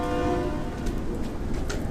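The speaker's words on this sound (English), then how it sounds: "I think that was a honk" A train horn sounds as a sustained, steady tonal blast near the start, fading after about half a second, over a constant low rumble and faint background noise.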